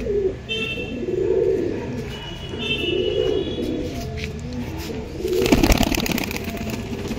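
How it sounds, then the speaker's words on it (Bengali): Pigeons coo in a loft in Purba Bardhaman, with repeated soft low coos close by, some higher chirps, and a burst of rustling or wing flapping near the end, with no one speaking. "কামাক্কার পায়রা আছে।"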